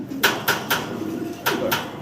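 Pigeons coo close by in a series of soft, rhythmic calls, with a short pause partway through. The calls stand over a steady murmur of background noise.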